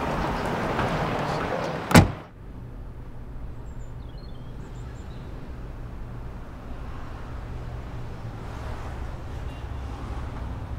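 A single solid car door slam, close and sharp, followed by quiet outdoor ambience with faint wind.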